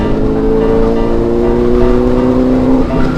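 Motorbikes pass close by on a bridge, their engines making a loud, steady drone with a rising whine.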